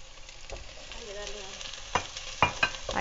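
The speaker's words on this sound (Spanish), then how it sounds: "Aquí sancochamos nuestra cebolla." Onion for fava bean soup fries in a pan with a soft continuous sizzle, broken by several sharp scraping clatters of stirring in the second half.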